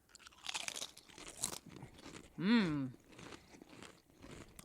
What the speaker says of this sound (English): It's not like as crunchy as a regular chip. Yeah, bean chips tend to have this kind of texture.